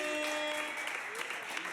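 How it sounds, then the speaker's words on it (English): An audience claps at a live evening music show, a short burst of applause with sustained instrument tones and a little talk mixed in. "round of applause"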